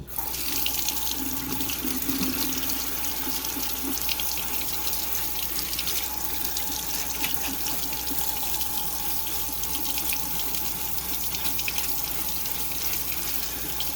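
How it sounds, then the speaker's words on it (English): Water from a kitchen tap runs steadily into a sink while tomato seeds are rinsed in a mesh strainer, a constant rushing hiss close by with no talking. "So if you can't hear me, it's because the sink's going."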